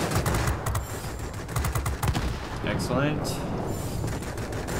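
Rapid cannon fire from the three 23mm guns of a La-15 jet fighter in World of Warplanes, dense rattling bursts over engine roar while someone briefly speaks.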